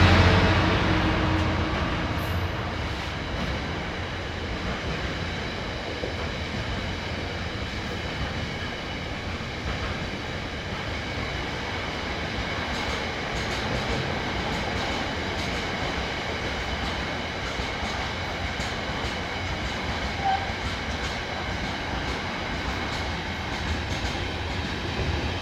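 Class 66 locomotive 66710 'Phil Packer' passes through Lincoln Central station, a steady rumble of engine and rolling wagons holding for the whole span with faint wheel clatter, no voices.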